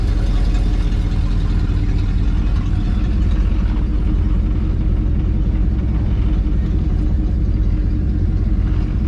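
An old van's engine idles with a steady low rumble, loud and close, running continuously with no voices over it.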